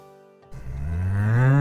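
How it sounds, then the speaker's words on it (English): A cow gives a single long, rising moo that swells in loudness, close up and alone with no voices. "This is a cow."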